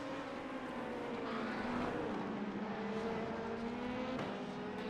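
LMP2 prototype race cars in iRacing, engines droning at sustained high revs with rising and falling pitch as cars pass close by, a steady loud mechanical whine with no talk.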